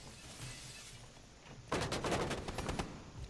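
A burst of rapid gunfire in Rainbow Six Siege, a dense string of sharp shots close up lasting about a second over quiet ambient game noise.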